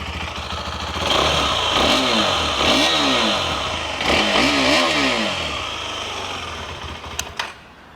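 KTM 390 Adventure single-cylinder motorcycle engine revving repeatedly, several rising and falling throttle blips over a rough idle, close and loud, with no talk.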